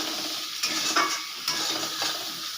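Turmeric, chili powder and salt fry in oil for a fish curry, giving a steady close sizzle while a spatula scrapes and stirs the pan in repeated strokes.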